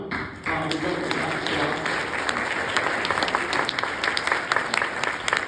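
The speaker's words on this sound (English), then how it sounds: "I want to give a quick round of applause to all of them." Steady audience applause at an organization's annual meeting, a dense, continuous patter of many hands with some sharper individual claps throughout, fairly close and filling the room, with a brief voice at the very start.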